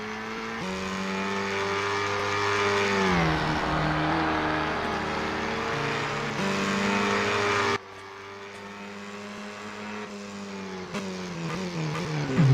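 British Formula 4 race cars in a racing sim at Snetterton drone past with loud, sustained engine tones that rise and fall through gear changes, with an abrupt shift in pitch partway through and no talking over them.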